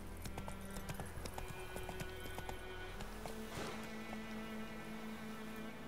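A horse galloping in the video game The Witcher 3: Wild Hunt, a steady rhythmic clip-clop of hooves at a fast pace with game ambience and a tonal hum underneath, no talking.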